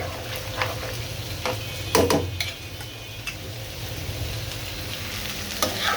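Soaked chickpea dal and head meat sizzle loudly as they fry in a pan, and sharp clicks and scrapes from a stirring spoon cut through the steady crackle.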